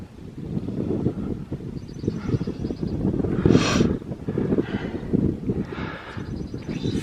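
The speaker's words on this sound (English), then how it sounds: "It's a little bit windier up here." Wind gusts buffet the microphone atop a fire lookout tower about 80 feet high overlooking the Grand Canyon, a steady rough rumble with a few brief whooshing surges.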